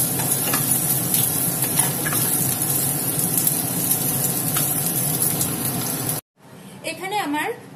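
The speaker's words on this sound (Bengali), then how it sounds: "সেই পেঁয়াজটা ভেজে নেব।" Chopped onions frying in hot oil, a dense continuous sizzle close by for about six seconds, then a sudden break followed by a brief, quieter bit of other sound.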